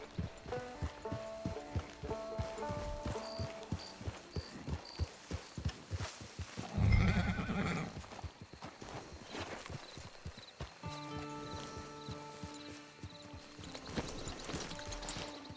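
Rhythmic hoofbeats of a horse in Red Dead Redemption 2 Online clip-clop steadily alongside tonal game music, with a heavy thump midway before the galloping continues.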